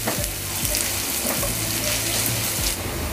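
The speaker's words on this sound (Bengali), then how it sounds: "এবারে পেঁয়াজটাকে গোল্ডেন হওয়ার আগ পর্যন্ত ভেজে নিতে হবে" Chopped onions sizzle in hot oil as they fry toward golden, a loud, steady crackle broken by several stirring scrapes against the pan.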